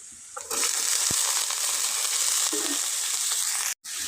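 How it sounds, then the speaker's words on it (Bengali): Cut potatoes sizzling in hot oil with onion and green chili, a loud steady frying hiss that starts abruptly, with a couple of brief stirring clinks, then cuts off sharply near the end. "আলুটা একটু ভালো মতন ভাজা হবে আর একটু সেদ্ধ হবে"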